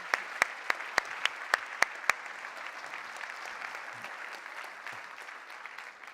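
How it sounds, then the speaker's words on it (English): Conference audience clapping for a keynote panel at a Convergence EMEA 2018 event, a sustained round of applause with several sharp close claps near the start, fading gradually. "I'd like a huge round of applause for our phenomenal panel."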